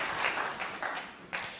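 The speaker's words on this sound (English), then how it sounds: "And wasn't it nice to see Kyren Wilson clapping O'Sullivan on frame and match ball there?" Applause from a snooker audience greeting the final frame and match ball, a steady wash of many hands clapping with slight swells, heard at a moderate distance with no talk.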